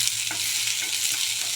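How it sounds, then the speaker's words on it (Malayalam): Thin-sliced potato and onion sautéing in a hot pan give a brisk, even sizzle with light stirring scrapes, close and steady throughout the short moment. "ഇതൊക്കെ ഇട്ട് നന്നായി ഒന്ന് സോട്ടാവട്ടെ"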